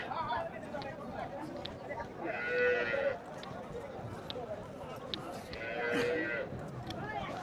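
Busy Qurbani cattle market in Hazratpur, Bangladesh, with cattle calling twice over a constant crowd murmur and chatter.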